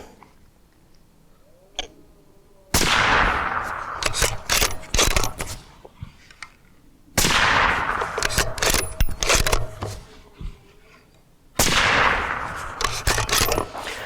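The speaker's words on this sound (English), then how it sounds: "We'll take a few shots through the Sandman L from the Savage and just kind of see how it sounds." Suppressed .308 rifle shots from a Savage fired through a Dead Air Sandman-L can, three loud sharp reports spaced about four seconds apart, each followed by a ringing decay and clattering noise, with no talking.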